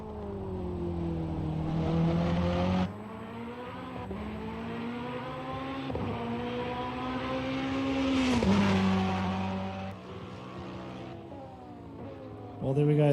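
A race car on the Hungaroring circuit in a racing video game, its engine revving up and down through gear changes as it passes close by, loud and continuous, with a voice commentating over it.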